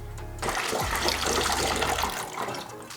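Water pours steadily into the cooling system of a twin-turbo Mustang, a continuous gushing, splashing rush heard close and fairly loud, with a brief low hum at the start and no talking.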